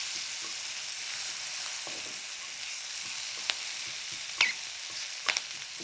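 Tagine vegetable petals fry in a pan with a quiet, steady hiss and occasional soft crackles and scraping clicks as they are moved about.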